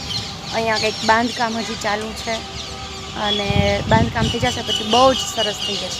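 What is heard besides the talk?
sparrows chirping around a Mahadev temple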